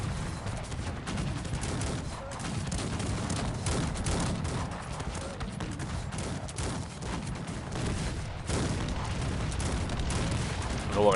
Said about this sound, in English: A lot of cannons.